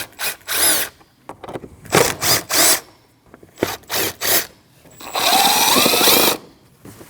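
A power drill spins out the four 8mm bolts on the air cleaner box of a 2013-2019 Ford Escape 1.5L, whirring in several short loud bursts, then one longer sustained run, with brief clinks between.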